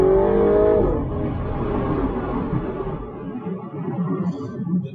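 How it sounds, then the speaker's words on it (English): A Mini Cooper S (F56) with a B48 engine, producing about 190 brake horsepower, roars at full throttle on a dyno: a loud, dense engine note that swells briefly, then settles into a sustained rumble and fades slightly. "Little full throttle squirt there gave us a use of the full 190 brake horsepower that this car is currently producing."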